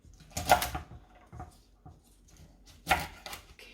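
A knife chopping garlic scapes on a cutting board, heard as a few sharp cuts spread across a few seconds. Each cut is followed by a short pause.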